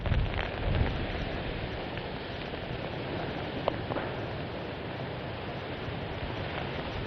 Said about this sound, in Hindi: इतनी तेज वहां पर बारिश हो रही है, वहां पर इतनी तेज हवा चल रही है